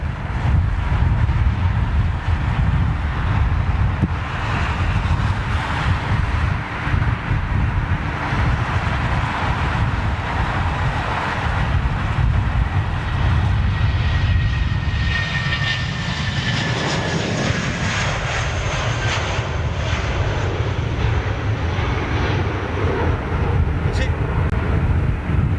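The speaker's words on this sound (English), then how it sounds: "We're going to hear her taxiing up." A Boeing 747 taxis with a loud, continuous jet engine roar and rumble, broad and steady with a faint rising whine, heard outdoors with some wind noise.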